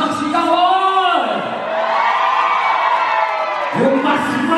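A live crowd at a variety-show appearance in Liverpool shouts and cheers loudly and continuously, with whoops and high children's shrieks swelling, dipping briefly, then surging again near the end.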